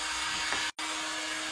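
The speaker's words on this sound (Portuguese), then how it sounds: "Escutando barulho de secador" A hair dryer runs with a continuous whirring blow and a faint tonal hum, cutting out for a split second midway before resuming at the same level, with no voices.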